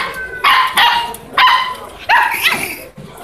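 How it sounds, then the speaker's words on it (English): Several dogs and puppies barking and yipping together at a dog market in China, a burst of sharp close barks in quick succession with brief gaps, plus a faint voice. "check out all these doggies here"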